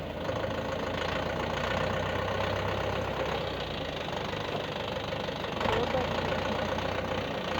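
A YTO EX 604 4x4 tractor's diesel engine idles with a steady, close knocking rumble, holding an even level throughout and rising slightly near the end.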